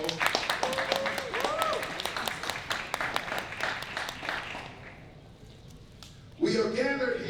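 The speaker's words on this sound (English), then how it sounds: "so let's give her a round of applause." Audience at a Dr. Martin Luther King Jr. conference giving a round of applause, scattered clapping under a speaking voice that tapers off, followed by a brief pause before talk resumes.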